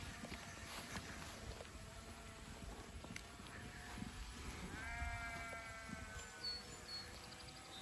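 A flock of sheep in a pasture gives a faint bleat or two amid soft hoof shuffling and footsteps in the open air, the whole scene quiet and distant.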